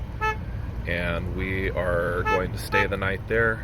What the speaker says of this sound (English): You can hear somebody honking the horn behind me.